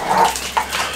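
Dogs in a home bark and whine, with two short yelps over a steady watery background hiss.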